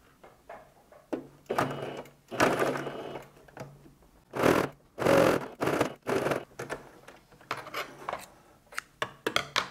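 Sewing machine stitching a face mask with backstitches at the start and end, heard as irregular close bursts of stitching separated by short pauses, fairly loud, with no talking.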